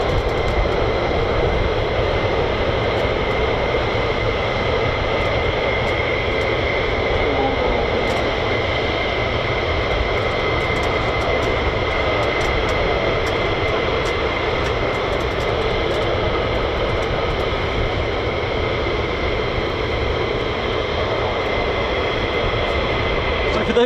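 US Air Force fighter jets, F-22, F-16, F-15 and F-35, taxiing out at an RAF air base, a continuous loud engine roar and high whine holding steady throughout with no pauses.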